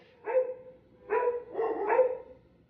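Two pugs bark in short, close bursts, one bark, then a pause and a quick run of about three more, with no talking.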